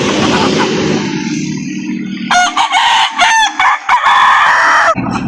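A rooster crows loudly and close at a livestock poultry market in Laguna, a long strained call over a background murmur of market noise and other birds, with another short burst of crowing following.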